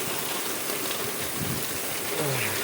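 Steady rain falling at night in the open near a fishing spot, a dense, even hiss of drops that fills the whole clip with no voices.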